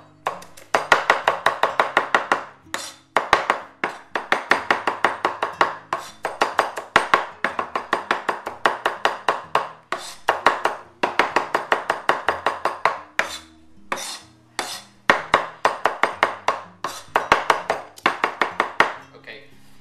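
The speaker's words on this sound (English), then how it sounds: "So I'm going to chop the garlic up." A knife chops garlic on a cutting board in fast, steady runs of sharp taps, close and clear, with brief pauses between bursts. Background music plays throughout.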